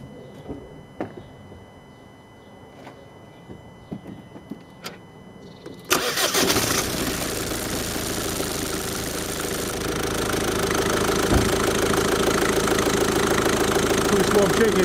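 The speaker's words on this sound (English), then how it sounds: "So let's start up." A Ford Focus diesel engine turns over and catches after a few quiet seconds of small clicks and handling noises. It then settles into a loud, steady, close idle with a rough diesel clatter.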